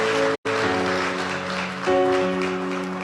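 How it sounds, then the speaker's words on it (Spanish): A church congregation applauds during a service, giving a dense, loud wash of clapping over sustained musical tones, briefly cut by a short silent gap near the start. "Denle un fuerte aplauso al Señor."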